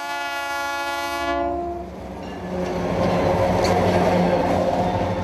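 The Whistler Mountaineer passenger train, running from the mountains down to Vancouver in western Canada, sounds a long sustained horn blast, then rumbles past with steady rolling noise and wheel clatter that swells as it nears.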